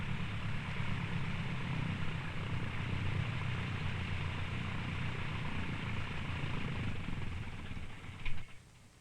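A light propeller airplane on a landing approach and touchdown during a 1969-era flight lesson, its steady engine drone loud and continuous before dropping off sharply near the end as the wheels meet the runway.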